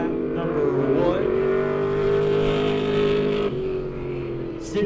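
A race car at Lebanon I-44 Speedway runs a timed lap, its engine giving a loud sustained roar that holds steady and then eases slightly, with an announcer's voice faintly mixed in.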